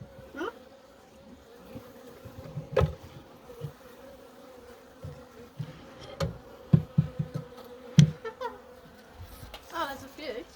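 Honey bees robbing an abandoned hive make a faint, steady buzz. Scattered soft thumps and knocks from handling the hive come close by, and faint voices are barely audible.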